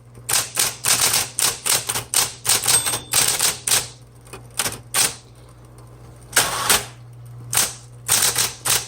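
Brisk typing on a pink 1970s Smith Corona Electra 220 electric typewriter, with sharp clustered keystrokes in quick bursts and short pauses over a steady motor hum, close and loud with no talk.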